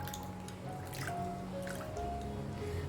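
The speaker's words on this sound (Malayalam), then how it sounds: "അതിലേക്ക് ഒരു 1/4 ടീസ്പൂൺ മഞ്ഞളെടുത്ത് നമുക്ക് എന്ത് ചെയ്യാം, ഇങ്ങനെ കലക്കി കൊടുക്കാം." Ground turmeric being stirred into lemon juice makes brief wet drips, squishes and liquid clinks close by, a short sequence of small mixing sounds with no voice.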